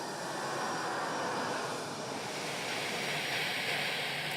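A passenger airplane's jet engine runs on an airport tarmac, a steady, loud broadband roar and hiss that continues without a break.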